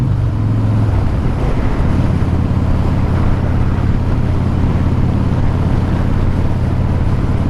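A 2014 Harley-Davidson Breakout FXSB motorcycle engine drones loud and steady under heavy wind rush while riding, with a deep low rumble throughout.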